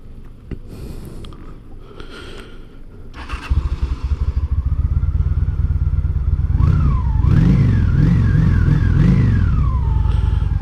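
A Honda Shadow 750cc motorcycle starts off and rides away, its low engine rumble building from idle into loud, rising and falling revs as it pulls off, preceded by a few clanks and rustles.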